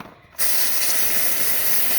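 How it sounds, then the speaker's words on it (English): A steam cleaner on tile grout bursts into a loud, steady hiss that runs continuously after a brief quiet start. "I'm going to steam clean it and steam clean it and steam clean it"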